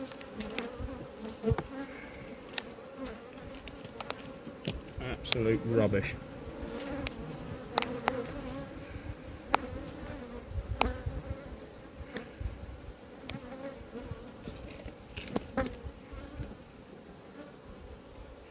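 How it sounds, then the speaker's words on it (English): Honeybees buzz around an open hive at an apiary, a constant dense drone with individual bees whining past close to the microphone, while someone briefly speaks over it. "I'm not having bees like that. Look at them."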